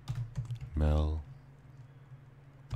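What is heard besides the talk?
typing on a computer keyboard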